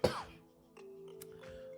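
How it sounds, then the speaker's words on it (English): A single sharp cough bursts out close to the microphone, then fades into a quiet room with a faint steady hum and a couple of small soft noises. "Got a cough."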